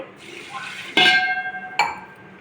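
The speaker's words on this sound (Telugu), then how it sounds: "దీనికి పాలు మూడు గ్లాసులు పోస్తున్నాం అన్నమాట" Milk is poured into a metal pot holding soaked rice for jaggery pongal, with a pouring trickle, then two ringing metallic clinks from a glass or vessel striking the pot.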